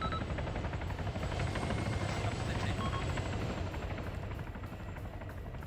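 A helicopter in a multiplayer battle royale video game gives a steady, loud rotor drone throughout, with a voice talking faintly over it.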